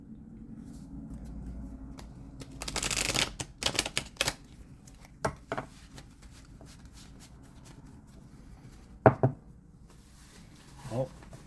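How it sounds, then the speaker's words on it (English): A Rider Waite Smith tarot deck being shuffled by hand, with a quick burst of riffling cards followed by scattered taps and soft handling noises in a quiet room. "I'd be willing to bet I need to shuffle this one more time."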